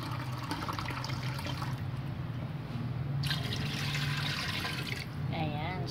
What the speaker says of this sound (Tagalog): maglagay tayo ng 1 litrong tubig